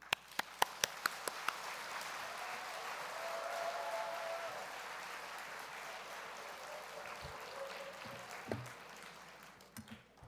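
Applause from a church congregation at an early-morning prayer service as the pastor comes forward, a few sharp claps at first swelling into a steady, moderately distant wash that tapers off near the end.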